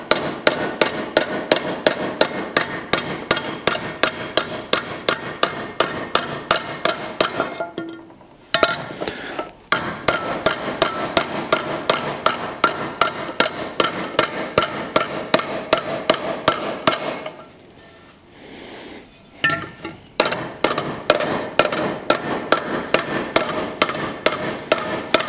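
Steady, rapid hammer strikes on exhaust manifold metal for a Jaguar Mk2 wide-body build, close and ringing, continuing in long even runs with two short pauses.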